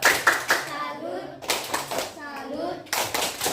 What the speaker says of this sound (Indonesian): kita kasih tepuk salut dulu buat kelompok 2